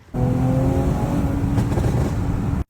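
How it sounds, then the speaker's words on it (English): A deep, raspy exhaust on a 2018 Mercedes-AMG E43 with a resonator delete drones steadily at idle with a harmonic rumble, close and loud, starting abruptly and cutting off near the end. "I just got a resonator delete on my E43"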